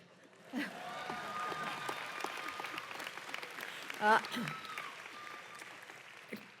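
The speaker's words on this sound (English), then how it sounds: "You can now applaud." A crowd claps at the UC San Diego commencement in 2019, a broad, moderate applause heard from a distance under an echoing voice and a sustained tone, with a brief sharper burst partway through.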